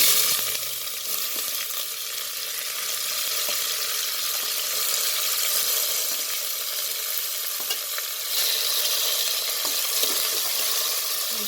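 Two thick onions frying in a pan, a steady close sizzle with occasional stirring clicks and scrapes, continuous and unbroken with no talk.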